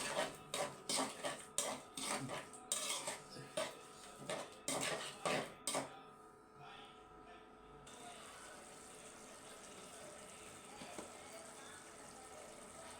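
Shrimp are stir-fried with turmeric and chili powder in a pan, a spoon scraping and clanking against the metal in quick bursts, then a softer low sizzle toward the end.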